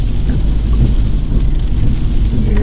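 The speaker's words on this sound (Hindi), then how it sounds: "और बारिश हो रही है" Heavy rain pours steadily at Babusar Top on a mountain road, a loud, constant rushing hiss with deep low rumble throughout and no voices.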